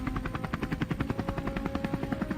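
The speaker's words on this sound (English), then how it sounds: "Amidst the noise of the propellers, we kept firing, aiming at the pigs below." A helicopter's rotor beats in a fast, steady chop during a wild boar hunt over open plains, with rapid gunfire blending into the pulsing rhythm. The sound is loud and close, and no one speaks.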